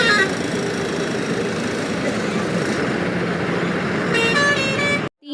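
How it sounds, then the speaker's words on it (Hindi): Heavy traffic jam on the road to the Mahakumbh, with a steady loud roar of cars, buses and trucks and repeated horn honks layered throughout, several tonal toots clustering near the end before it cuts off. "बहुत ही ज़्यादा ट्रैफिक लगा हुआ है"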